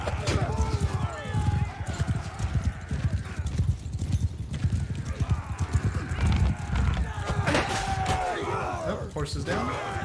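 Horses in a Mount & Blade II: Bannerlord battle thunder along with dense rhythmic hoofbeats and whinny at moments, loud and close, with someone talking over the clamor.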